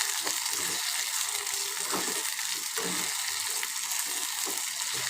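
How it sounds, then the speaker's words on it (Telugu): Dried prawns fry in a pan until reddish, destined for a prawn and tomato curry. A dense, loud sizzle of hot oil fills the scene, broken by a few scraping stirs, and no one speaks. "బాగా ఎర్రగా అయ్యేదాకా వేయించుకోవాలి."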